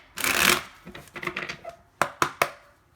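A deck of tarot cards being shuffled with a rough riffle, followed by three crisp taps as cards are squared or set down.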